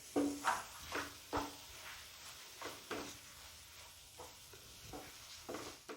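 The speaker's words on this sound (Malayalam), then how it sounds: "നമുക്ക് ചതച്ച് വെച്ചിരിക്കുന്ന തേങ്ങ ഇട്ടൊന്ന് നല്ലോണം ഒന്ന് ഇളക്കി കൊടുക്കാം" A spatula scrapes and knocks through squid and crushed coconut in a pan, giving a quiet, close run of rhythmic stirring strokes over a faint sizzle.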